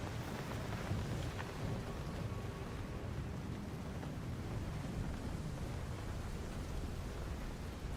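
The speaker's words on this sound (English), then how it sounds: "Oh, now I'm going straight into the storm." A thunderstorm with rain in the video game Arc Raiders makes a steady, dense hiss of rainfall and a low background rumble, moderately quiet and unbroken, with nobody talking.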